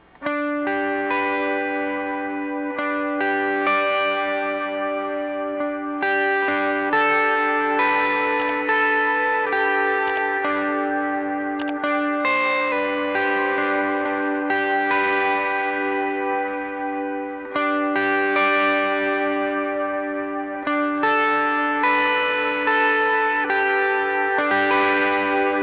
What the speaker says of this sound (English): Now with a little bit of reverb and a little bit of overdrive.